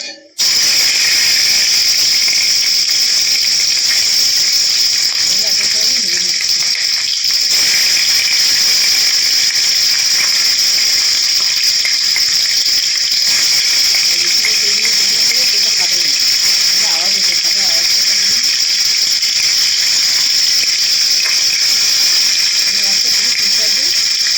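Rohu fish pieces fry in mustard oil in a wok, giving a steady, loud sizzling hiss throughout, with faint voices underneath at moments.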